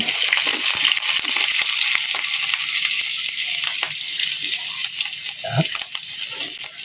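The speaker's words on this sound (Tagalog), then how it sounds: "Lagay na natin yung ating bawang." Garlic sizzles in a hot pan for a stir-fried vegetable dish, a steady close frying hiss with occasional stirring scrapes and spatters throughout.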